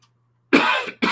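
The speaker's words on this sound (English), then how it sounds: "Excuse me for coughing." Two harsh coughs, close and loud, the first longer and the second cut short, after a moment of near silence.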